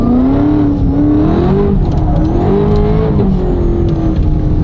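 A Hennessey car's engine revs hard and continuously as it accelerates through a slide, loud and close, with the engine note rising and wavering throughout.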